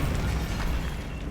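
A Bombarda explosion spell goes off in Hogwarts Legacy, a loud, dense blast of rumbling noise that fills the whole short moment with no voice over it.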